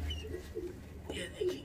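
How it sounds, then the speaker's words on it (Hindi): A China breed pigeon in a loft gives soft, low coos in short repeated phrases, close but faint, while someone talks over them. "चीना कबूतर है, बहुत जबरदस्त।"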